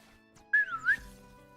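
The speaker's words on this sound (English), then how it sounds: "My son started whistling and he does it non-stop" A child whistles a short, wavering two-part tune, fairly close and fairly clear, in a quiet room with faint background hum.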